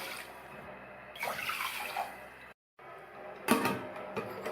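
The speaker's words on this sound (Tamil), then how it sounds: "அது கூட 2 கப் தண்ணி," Water pours steadily into a pressure cooker holding washed moong dal, a soft continuous splashing broken by a brief gap and a clunk of the vessel near the end.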